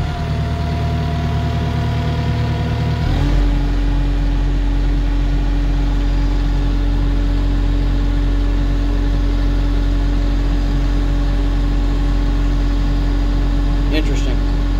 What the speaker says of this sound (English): Put a little RPM on it.